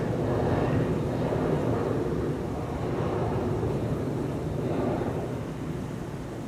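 A PLAY airliner departs Schiphol's Kaagbaan runway for Reykjavik, a steady broad rumble of engine noise mixed with wind buffeting, fairly loud throughout and easing slightly at the end, no voices.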